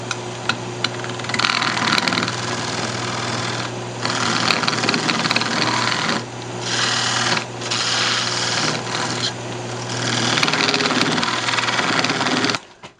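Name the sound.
wood lathe parting off a natural edge candy dish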